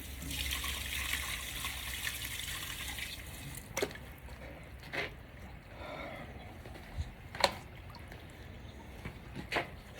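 Water soaks and percolates through worm castings in a bucket with a soft, continuous trickle, close and quiet, broken by a few brief, distinct drips and splashes.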